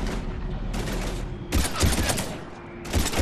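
Dense bursts of gunfire in the sci-fi shooter Mass Effect 3, a steady barrage of rapid shots layered over a loud battle rumble with no pause.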